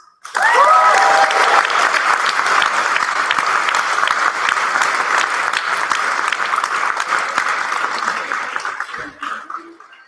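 Sustained audience applause at a debate fills the hall for about nine seconds, steady and dense, with a few whoops early on, then fades quickly near the end.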